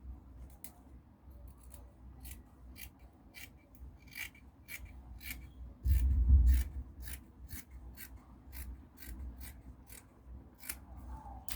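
Scissors snipping through fabric while cutting out a simple crop top with V-shaped sleeves: a close, regular run of crisp cuts, about two per second, with one heavier bump partway through.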